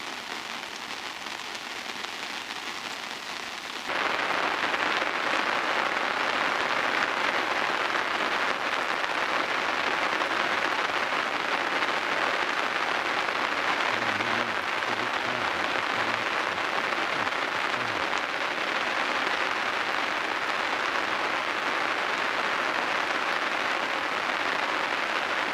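Rain falling in a steady, dense patter during a barbel fishing trip, suddenly growing louder after a few seconds and then drumming on evenly.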